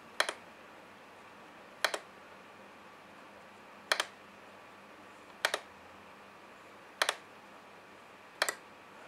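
Sharp mouse clicks, each a quick double click, come at spaced intervals of roughly one and a half to two seconds while playing the Farmville 2 video game, close and distinct over a quiet background.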